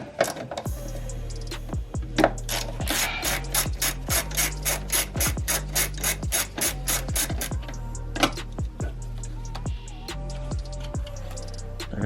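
Hand ratchet on an extension working loose the 12mm top bolts of a coilover strut on a G35 coupe, a steady run of close, loud clicking strokes in repeated bursts, with no voices.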